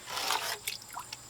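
Homemade compost tea is poured by hand from one vessel into a container in a potting shed, with no funnel: a short wet splash and trickle, followed by a few scattered drips.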